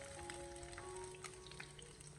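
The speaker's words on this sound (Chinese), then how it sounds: "把另外的一面也同样的把它煎制一下" Soft, steady sizzle of fish pieces pan-frying in oil until golden, a continuous faint crackle with scattered small pops and no talking.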